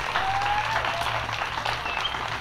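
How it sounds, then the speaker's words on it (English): An outdoor crowd at an anti-TPPA protest rally in Tauranga claps steadily, a dense, even round of applause from many hands, fairly close and sustained throughout. "give them all a big hand and a round of applause for their work here"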